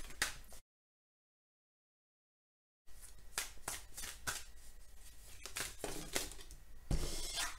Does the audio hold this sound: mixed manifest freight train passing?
no